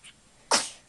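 One sharp, close sneeze bursts out alone, fading quickly into a quiet room.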